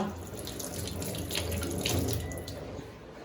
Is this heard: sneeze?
no